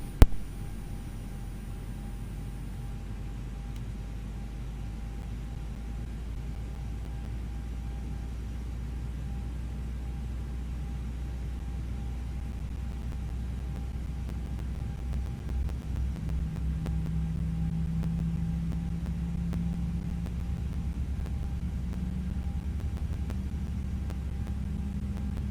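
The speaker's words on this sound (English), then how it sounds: "So we're gonna go ahead and start engine 2. We're gonna listen to it to the inside this time" Airbus A320 engine 2 spooling up in Microsoft Flight Simulator, heard from inside the cabin: a steady low rumble and hum that builds slightly as a rising tone emerges partway through.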